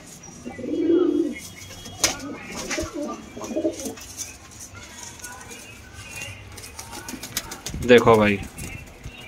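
Punjabi pigeons for sale in Ludhiana give a low coo close by, with a few soft wing flaps and rustles, and someone speaks briefly in Hindi near the end.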